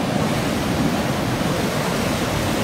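Massive rushing torrent of water pours through a burst reservoir spillway, a dense unbroken roar filling the air at close range without any voices.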